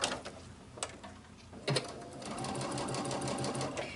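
Sewing machine stitching a side seam on knit fabric, a steady close mechanical whirr of rapid needle strokes that begins after a couple of brief bursts and then runs continuously.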